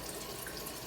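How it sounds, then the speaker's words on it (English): Water running from a tap into a measuring cup for cooking brown rice, a steady close hiss and trickle with faint drips, no talk. "I'm just measuring out some water here real quick."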